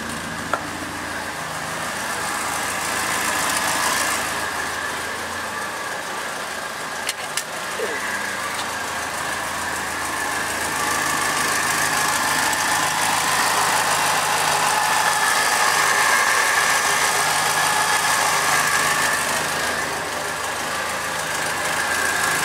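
A car engine idles steadily at its first start after an engine change, running continuously and fairly loud with a broad exhaust hum while a voice speaks intermittently over it.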